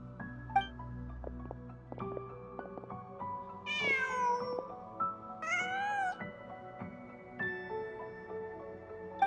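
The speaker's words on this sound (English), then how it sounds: "Just a cat." A cat in the video game Genshin Impact meows several times in short, rising calls over soft layered game music.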